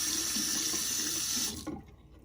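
Sink tap water running steadily as something is rinsed under it, a close, full gushing stream that cuts off abruptly near the end, leaving brief quiet drips and handling.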